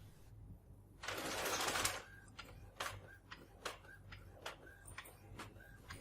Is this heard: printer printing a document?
yes